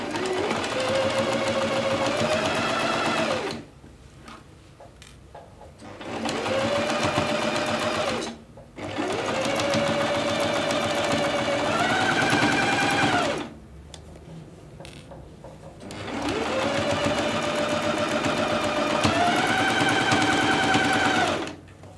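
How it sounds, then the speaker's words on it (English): Home sewing machine stitching a decorative wavy line along the shirring elastic of a summer dress, running in long steady whirring bursts with short pauses between, close and loud with no talk. "I'm just going to sew a wavy line all the way around the top and the bottom of the shearing elastic"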